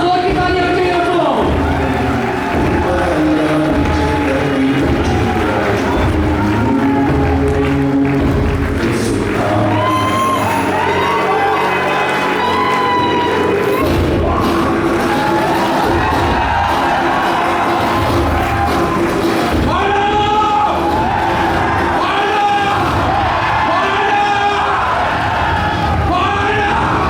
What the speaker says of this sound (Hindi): और जोर की तालियां बजाइए दोस्तों।